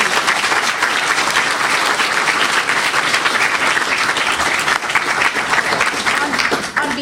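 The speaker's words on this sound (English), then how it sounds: "Can we have a round of applause?" A luncheon audience claps for a Congresswoman, a dense, steady round of applause that fills the room at close range for the full length, with a faint voice or two mixed into the crowd noise.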